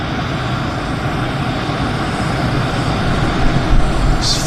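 A Flair Airlines airplane departing Vancouver Airport, heard as a steady broad engine roar that swells slightly toward the end, distant and continuous with no voices.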